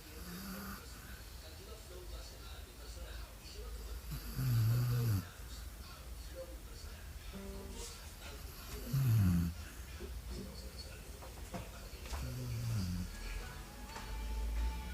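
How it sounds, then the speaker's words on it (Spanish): A pet dog asleep on a pillow snores loudly up close, three rasping snorts spaced a few seconds apart, with low indoor background noise between them. "Nuestra perra roncando a dos manos."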